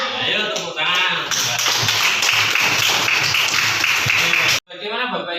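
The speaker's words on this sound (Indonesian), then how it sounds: "Ayo tepuk tangan." An audience of teachers claps hands at a school gathering, a dense burst of applause lasting several seconds before cutting off abruptly, then resuming briefly.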